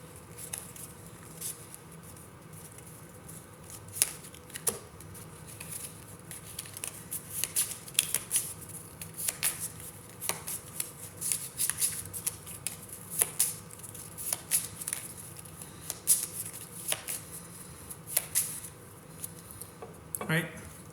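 Red Dust Rebellion board game cards get shuffled by hand, giving soft irregular riffling and patting taps that are quiet and close, with faint background murmur and no clear speech.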